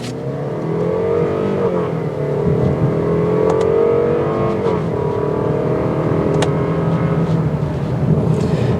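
2022 Lexus IS 300 in sport mode accelerates hard with a loud, steadily climbing engine note heard from inside the cabin, briefly dipping between gear changes before pulling up again.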